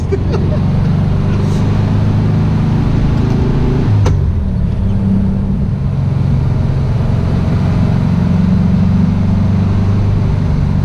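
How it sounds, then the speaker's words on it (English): A 1965 VW Beetle's engine drones loud and close from inside the cabin while driving, a steady rumbling hum with a brief rise in revs, with people talking over it. "This car like screams at you, please change gear."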